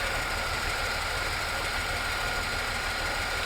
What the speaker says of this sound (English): this is with the engine idling right now